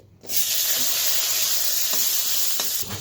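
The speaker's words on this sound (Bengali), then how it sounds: "তো কাঁচা লঙ্কাটা ভেজে নিই।" Green chilies fry in a little oil in a pan while egg bhorta is cooked: a steady, close sizzle that cuts in sharply, with a few soft stirring scrapes and no talking.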